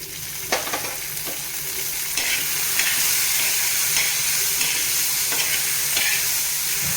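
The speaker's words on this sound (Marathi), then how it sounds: "तुरीचे दाणे, हिरव्या मिरच्या, लसण आणि जिरं टाकलंय आणि यावर टाकते थोडंसं तेल" Pigeon pea grains, green chillies, garlic and cumin roast in a little oil in a pan, giving a continuous close sizzle broken by several sharp stirring scrapes and clinks.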